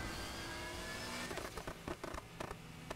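A Foxbody Mustang engine in the racing video game Need for Speed Heat revs as a steady drone, then breaks into a run of sharp, rapid bursts, like gear shifts or wheel chatter, at moderate volume with no talk.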